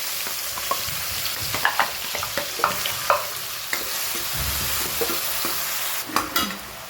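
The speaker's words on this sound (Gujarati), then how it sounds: "જીરું થઈ જાય એટલે હિંગ એમાં એડ કરીશું ડુંગળી ટામેટાં" Cumin, asafoetida, onion and tomato frying in hot oil, a dense close sizzle with repeated scraping stirs and clanks of a spoon against the pan, no talking.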